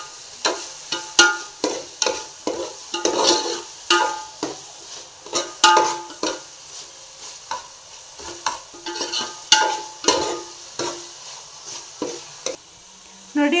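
Food is stirred and mixed in a pan, with a utensil scraping in about twenty distinct, rhythmic strokes over a soft background sizzle, close and clear with no talking.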